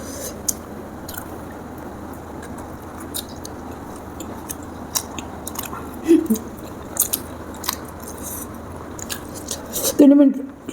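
Spicy chicken momos being eaten up close, with intermittent bites and chewing over a steady background hiss and a few sharper bites near the end, while voices murmur faintly.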